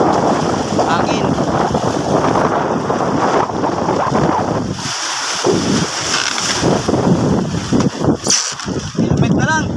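Gusty wind blows across a seashore where mussels are gathered, buffeting the microphone in loud, uneven rushes, with people talking intermittently underneath.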